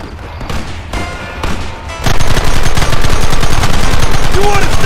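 Sustained rapid gunfire erupts in a Red Dead Redemption shootout, loud and dense volleys of shots after a quieter opening with a few scattered pops.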